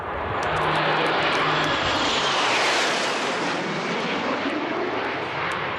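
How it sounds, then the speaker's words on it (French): Two F-18 fighter jets escort a Mirage III in flight, producing a loud, continuous roaring engine rush that swells toward the middle and then eases slightly, with no voices. "Ce sont 2 F-18 qui l'escortent vers la vie civile."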